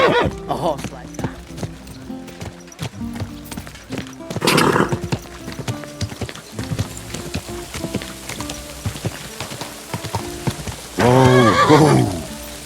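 A horse in the video game Kingdom Come: Deliverance II neighs loudly twice with clip-clopping hooves throughout, over light rain on a surface; a voice speaks briefly.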